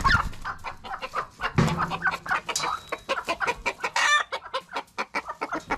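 A hen clucks loudly and agitatedly on a farm, a rapid series of near, harsh clucks and squawks running throughout with no talk.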